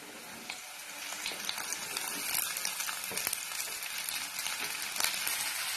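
Ivy gourd (kovakkai) sautéing with onions in a pan, a faint, steady sizzling hiss with scattered light clicks and scrapes of stirring, no voices.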